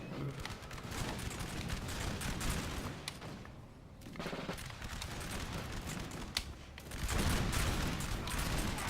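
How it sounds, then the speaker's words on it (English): Massed musket volleys boom across a Napoleonic line battle in the video game Napoleon Total War, dense rolling gunfire swelling and fading in waves, with a loud burst near the end and faint talk beneath. "Oh, nice loud volley."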